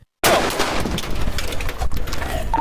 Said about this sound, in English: 32 shots fired.